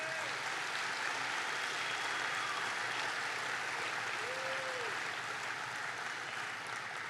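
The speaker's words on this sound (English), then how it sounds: "please give them a round of applause" An arena crowd at the Ohio State Fair champion market beef drive applauds exhibitors in the livestock show ring. The clapping comes as a faint, steady, distant wash that holds evenly throughout.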